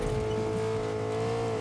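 A car drives in the video game Fortnite, its engine holding a steady, droning tone throughout with no talk.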